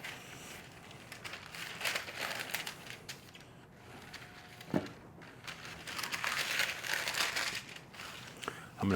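Parchment paper crinkles and rustles while bread dough is prepared, with soft crackles and a sharp tap near the middle and a louder burst of rustling toward the end.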